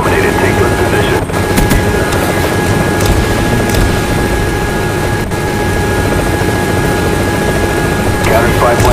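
Hind helicopter in the Call of Duty Black Ops video game, a loud continuous rotor and engine drone mixed with bursts of gunfire and battlefield effects, with in-game voices heard over it.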